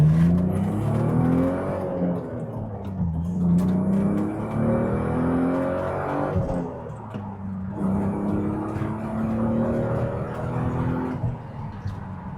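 A BMW Z3 roadster's straight-six engine revving up and down repeatedly, a smooth, balanced rising and falling drone heard close with no talk.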